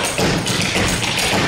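Clogging basic buck steps: a dancer's shoes tap and thud on the floor in a quick, even rhythm, close and clear, with no talking.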